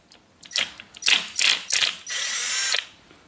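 Engine head bolts are worked loose with a ratchet: several quick bursts of clicking and rasping close up, followed by a longer continuous ratcheting run, then quiet.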